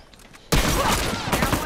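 Gunfire from a team shooter video game, starting abruptly after a half second of near-quiet and holding as a loud, dense burst of shots to the end, with a voice mixed in.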